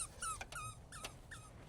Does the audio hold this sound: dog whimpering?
yes